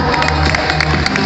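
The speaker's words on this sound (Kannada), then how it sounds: "ಅವ್ರಿಗೂ ಕೂಡ ಒಮ್ಮೆ ಜೋರದ ಚಪ್ಪಾಳೆ." An audience at a stage event claps and cheers loudly in a short, dense burst, with crowd voices and whoops mixed into the applause.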